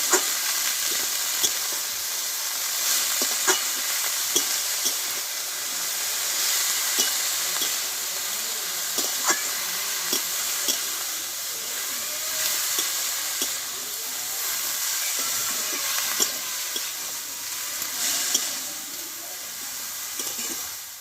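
Cabbage sautéing in a pan with salt and turmeric: a steady, close, broadband sizzle and hiss throughout, punctuated by small scraping taps of a spatula stirring, with no talking.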